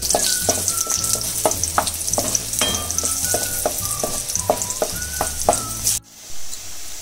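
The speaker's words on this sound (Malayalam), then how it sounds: "സബോള വാടി നമുക്ക് ഈ മുറിച്ച് വെച്ചിരിക്കുന്ന മുളക് ഇട്ട് ഒന്ന് അതൊന്ന് വഴുകി" Sliced onions and chopped chili sauté in a hot pan for a chicken fry, with a continuous sizzle and a spatula scraping in a regular rhythm, stopping abruptly near the end.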